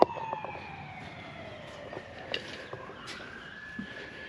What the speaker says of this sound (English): These guys love their sirens more than where I grew up.